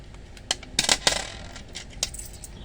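Coins clink and drop several times at a shop counter, a few sharp metallic taps then a cluster of jingles near the mic, close and moderately loud with no talk.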